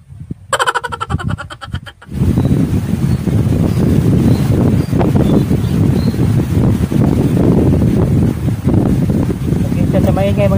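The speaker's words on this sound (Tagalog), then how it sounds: "Malakas yung hangin." Strong wind during rain buffets the microphone with loud, continuous roaring rumble while fishing, a person's voice and brief laughter coming through underneath.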